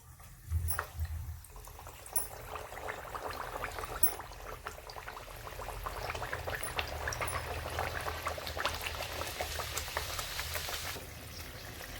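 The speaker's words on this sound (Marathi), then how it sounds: "तेल गरम करायला ठेवलंय, तेल पण गरम झाले। आता आपण पुऱ्या तळून घेऊ।" Red pumpkin puris fry in hot oil, giving a soft, continuous bubbling hiss that swells slightly as it goes on, with no talking.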